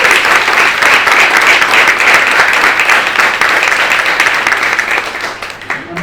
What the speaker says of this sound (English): Let's give them another round.